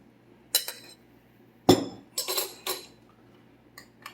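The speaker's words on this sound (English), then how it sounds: "We're going to take a teaspoon, and we're going to give us a plop of this" A metal teaspoon clinks against a bowl or jar while scooping a dollop of sauce for a ground turkey mushroom Swiss burger, a few bright sharp taps and scrapes close by in a quiet kitchen.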